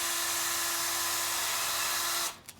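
A drill spins a wooden dowel while it is sanded with finer-grit paper, a steady high whir that runs loud and unbroken, then cuts off abruptly near the end with a couple of small clicks.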